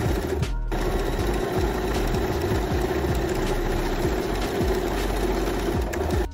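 A sewing machine runs steadily for several seconds, stitching a reinforcing corner on an off-shoulder dress. Its motor holds an even hum while the needle gives a fast, regular tapping, close and clear.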